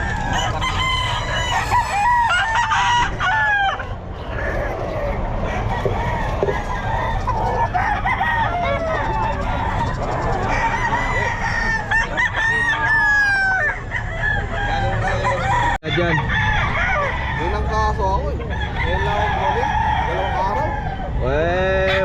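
Golden Boy gamefowl roosters at the Bocaue pet market, with repeated loud crowing and clucking from several birds amid a busy crowd of people chatting throughout.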